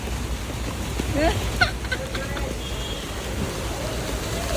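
Steady heavy rain roars with a dense, constant hiss, broken by a few brief clanks and splashes nearby.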